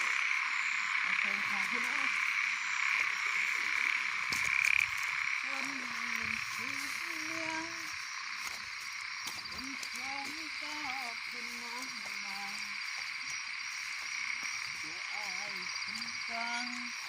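Frogs croaking at night in a rice field, many near and far, repeated calls over a constant insect-like drone, with people talking in between.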